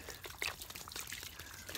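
Water pours and trickles softly at close range while rinsing a 1956 Pontiac, a continuous splashy gurgle with small droplet sounds.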